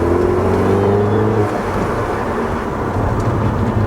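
Salvaged, lowered Audi TT Mk2 on the road with a bad exhaust, its loud droning engine note steady and close, a falling tone through the first stretch, with no talk over it.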